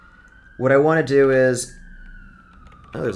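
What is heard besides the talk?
siren outside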